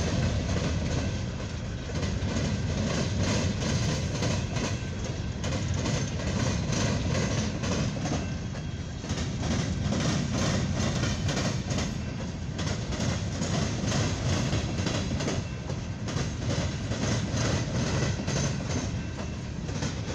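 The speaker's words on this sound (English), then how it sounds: "this is a really long CSX full hopper train" A long CSX coal hopper freight train rolls steadily past nearby, its wheels keeping up a continuous loud rumble and rhythmic clatter over the rail joints.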